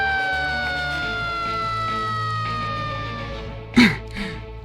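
A cartoon fire engine siren wails steadily in the background, its tones gliding slowly, with a couple of sharp bursts of noise near the end.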